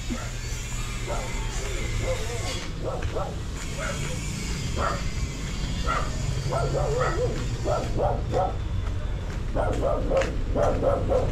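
A dog yips and barks in short bursts near the microphone, while people talk and a low hum runs underneath.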